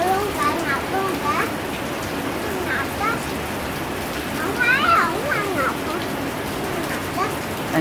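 Heavy rain pours down steadily, a dense constant hiss that fills the whole stretch, with faint bird calls and a few voices occasionally rising above it.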